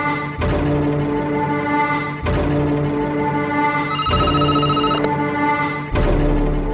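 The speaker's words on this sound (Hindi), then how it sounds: "जानकी मैम का फोन है" A telephone rings in repeated electronic bursts, each about two seconds long with short gaps between them, loud and close, with no talking over it.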